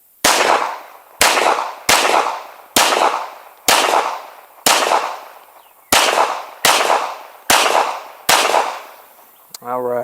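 A Springfield Echelon pistol fitted with a CVLife WolfCovert red dot fires about ten sharp, loud shots at an uneven pace outdoors, each crack trailing off in a short echo, with a brief voice at the very end.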